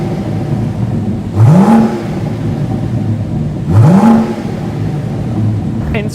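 A BMW M760i with a big engine revs twice, each blip rising sharply and then falling away, close and loud over a steady idle.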